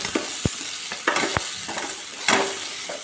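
Mustard seeds and cumin frying in oil for a tamarind roti pachadi, with a steady crackling sizzle broken by a few sharp pops and stirring scrapes, close and fairly loud, no voices.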